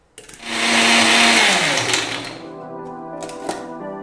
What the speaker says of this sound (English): now we will grind all this together